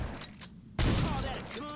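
Gunfire from the video game Saints Row 2 starts partway in as a loud, dense burst of shots after a quieter stretch, continuing steadily with game effects layered on top.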